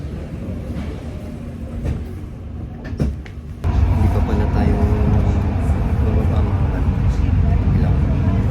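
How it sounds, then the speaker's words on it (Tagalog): A train pulls into a station in Germany, its low rumble growing abruptly louder and holding steady as it rolls in close by, following a quieter stretch with a few clacks. "dumating yung train"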